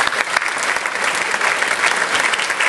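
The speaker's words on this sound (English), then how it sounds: "we should also give you an applause as well." Loud, dense audience applause fills the room continuously, many hands clapping at once with no pauses, close and full.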